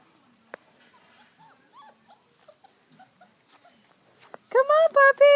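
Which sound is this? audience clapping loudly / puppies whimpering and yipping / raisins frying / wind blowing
puppies whimpering and yipping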